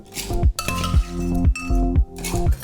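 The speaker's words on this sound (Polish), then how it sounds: "Następnie nasz kieliszek uzupełniamy kruszonym lodem." Crushed ice tumbles into a wine glass in several scoops, each producing a cluster of bright clinks and rattles, loud and close, with brief pauses between and no talking.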